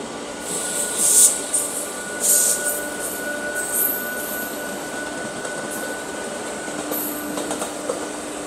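An Indian Railways train hauled by twin WAG 5 locomotives from the Jhansi shed rolls past steadily with a broad rumble, metallic wheel squeals and clicking over the rails.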